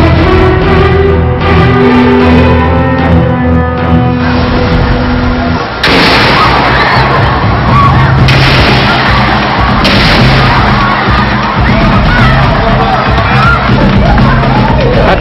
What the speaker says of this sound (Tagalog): yung pagsabog ng mga grenade launcher sa Lanao del Sur.